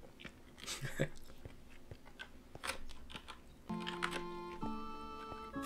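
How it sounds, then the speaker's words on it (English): A person eats with their mouth close to the microphone, making wet, crunchy chewing and biting noises in uneven bursts, while steady tones from a Minecraft game play in the background. "So I'm gonna eat louder into the mic so you guys can hear better."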